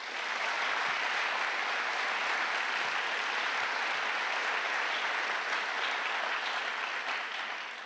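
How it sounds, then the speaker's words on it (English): Audience applause at a city's State of the City address honoring the Mayor's Youth Congress, a broad, even roar of clapping from a large crowd, sustained and slightly distant, with no voices over it. "Would you please give them a round of applause?"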